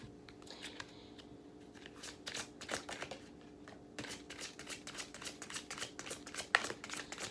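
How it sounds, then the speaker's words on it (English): Tarot cards are shuffled close by in quiet repeated riffles, soft papery flutters and taps coming in uneven bursts with brief pauses. "I'm just finishing the shuffle."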